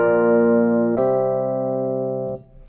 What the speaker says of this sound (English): one case of mode mixture that we cannot leave aside is that modal progression flat 6, flat 7, 1